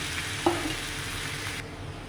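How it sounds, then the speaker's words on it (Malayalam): Chopped plantain, carrot and brinjal drop into a hot pan with a brief clatter and soft sizzle, followed by faint, steady frying hiss and a light stir. "നുറുക്കി വെച്ചിരിക്കുന്ന നേന്ത്രക്കായ ക്യാരറ്റ് പിന്നെ വഴുതിഞ്ഞ് അതിലേക്ക് ഇട്ട് കൊടുക്കാം"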